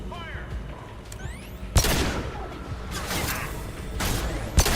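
Gunfire in Mass Effect 2, a few sharp loud shots spaced about a second apart with whooshing effects and mechanical game sounds between them.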